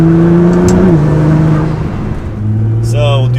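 A Nissan GT-R engine with a major power modification pulls hard in second gear, a loud, close, steady drone that rises and shifts pitch as it accelerates, with a brief voice near the end.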